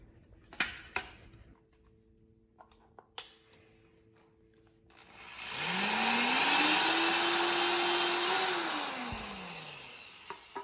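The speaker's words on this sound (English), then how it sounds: "we simply just drill like a little guide hole in each of these holes" A power drill's motorized whine spins up, holds steady for a few seconds, then winds down as it drills guide holes in a Camaro Z/28 carbon side skirt, preceded by a few scattered clicks and taps.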